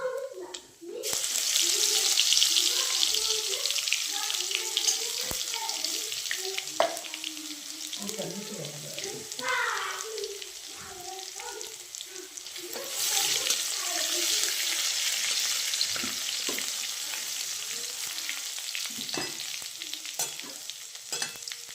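Mustard seeds and crushed garlic frying in hot oil, a continuous crackling sizzle with scattered pops and stirring clatter, loud and close, with a brief voice under it.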